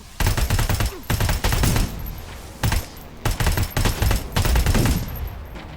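Gunfire in Terminator: Resistance comes as close, loud bursts of automatic fire, several rapid volleys separated by short pauses.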